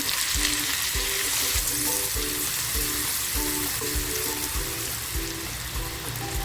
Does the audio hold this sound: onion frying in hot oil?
yes